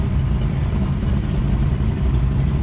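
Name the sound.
Ford GT500 engine during 1-2 gear shift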